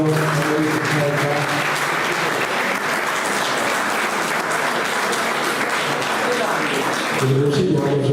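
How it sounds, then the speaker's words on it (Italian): Loud, sustained applause from an audience at a poetry competition prize-giving in Ossi, a dense wash of many hands clapping for about eight seconds, thinning briefly near the end. "L'assegniamo un applauso a Maurizio Faetta."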